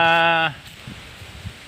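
A goat lets out one loud, short bleat up close, followed by quiet rustling and faint background noise.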